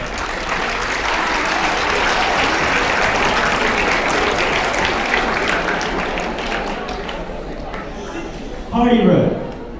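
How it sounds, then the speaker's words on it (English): Loud, sustained applause from an audience at a closing ceremony, dense crowd clapping that tapers off near the end before a brief louder burst. "Thank you for the clap"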